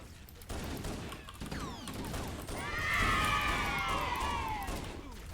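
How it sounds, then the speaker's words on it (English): Gunfire rumbles and crackles through continuous game sound in Halo Anniversary, with bursts at a moderate distance and a brief whining sweep overlaying the noisy battle mix, and a voice faintly present beneath. "the guns sound nice and meaty though"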